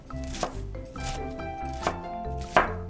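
Crisp knife chops through cabbage on a cutting board, about four strokes spaced out unevenly, with steady background music underneath.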